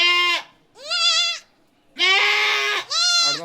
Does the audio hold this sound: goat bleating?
yes